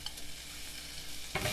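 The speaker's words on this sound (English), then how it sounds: "Now I'm going to add the boiled potatoes" Boiled potatoes with chili powder, coriander powder and turmeric sizzle softly in a pan, then a brief stir scrapes through near the end; quiet, close and without speech.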